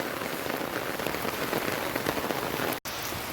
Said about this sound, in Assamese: ডিব্ৰুগড়ত বহুত বৰষুণ।